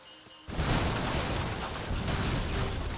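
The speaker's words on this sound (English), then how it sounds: "Bill's just now getting hit there by the cannon." Cannon fire landing in the Age of Empires 3 strategy video game, a sudden loud blast that breaks into a sustained rumbling, crackling roar of impacts and debris, with no talking.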